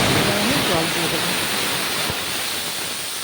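Water poured into a hot kadai of potato, bitter gourd and drumstick vegetables cooked in very little oil, a loud rushing hiss and bubbling that slowly eases off.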